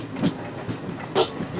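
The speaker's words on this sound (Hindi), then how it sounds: "कोई ट्रेन जा रही है" A Howrah–Ajmer express train rolls past with a soft, distant rumble and a few faint clicks from the wheels over the rail joints.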